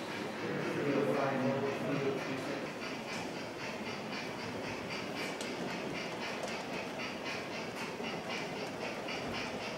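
Model railway trains running on 00 and N gauge layouts in a club room, giving a continuous rumble with light, rapid clicking over a steady bed of room noise.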